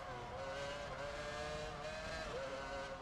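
Formula 1 race car in the F1 video game, its high-pitched engine whine holding steady with slight pitch shifts, moderately loud and alone.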